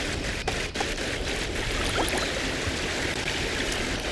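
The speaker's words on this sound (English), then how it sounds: "let's fill up some water bottles, huh?" Water bottles being filled at a stream in the video game Cairn, a steady, full rush of flowing, trickling water that stays constant throughout.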